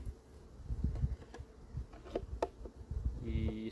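Bees buzz faintly around a beehive, a soft, irregular drone with scattered brief passes of single insects close by.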